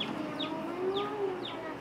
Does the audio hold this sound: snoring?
no